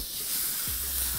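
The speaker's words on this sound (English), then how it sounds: "Okay, steak going in." Steak sizzling in a lightly oiled griddle pan, a loud, steady, close hiss that fills the whole moment with no talk.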